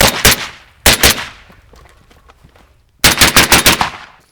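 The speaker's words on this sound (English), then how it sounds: "it's a very quiet rifle, and you can see every time that I fire it, kind of has that little ting ting ting." An M1 carbine rifle fires in bursts of sharp, loud shots, a quick string of rounds, then a pair, then a faster volley near the end, each crack followed by a short ringing decay.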